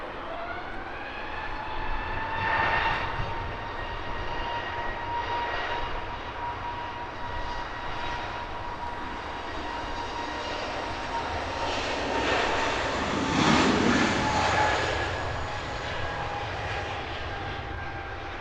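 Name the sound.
Saudi Boeing 787-10 Dreamliner departing Heathrow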